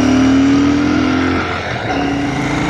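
A Royal Enfield Shotgun 650 motorcycle with a 648 cc air- and oil-cooled parallel twin ridden around town, its engine droning steadily near and loud, then easing briefly before pulling again.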